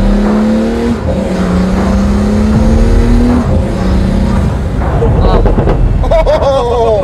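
A loud, raw drag car engine revs repeatedly, climbing and dropping in pitch, with sharp exhaust pops and crackles near the end, while a person talks over it.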